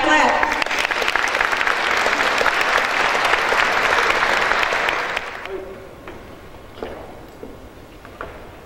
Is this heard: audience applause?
yes